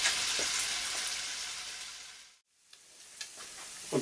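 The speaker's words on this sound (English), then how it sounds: "You just want it to allow the bacon to crisp up a little bit." Strips of bacon frying in oil in a pan for Baltic-style white cabbage, a steady close sizzle and crackle that drops out briefly midway, then resumes with scattered pops.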